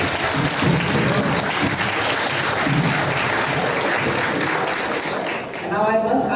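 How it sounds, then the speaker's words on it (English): An audience at a Shakespeare birth anniversary event applauds all the participants after team results are announced, loud sustained clapping filling the room until it dips near the end. "Big round of applause for all the participants."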